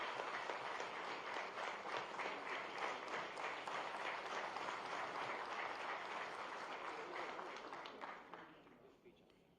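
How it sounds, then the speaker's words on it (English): Audience at a formal ceremony in Gandhinagar gives sustained, dense applause that holds steady for several seconds before tapering off near the end. "So please give a round of applause."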